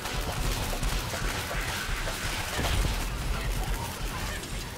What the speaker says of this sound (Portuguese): Essa explosão foi tu que causou